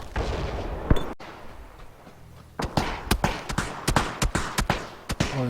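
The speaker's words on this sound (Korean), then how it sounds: "저기서 쏜다 다행히 한 대 맞췄어" Gunfire in the battle royale game PUBG, a few early shots followed by a rapid run of sharp, loud reports in quick succession.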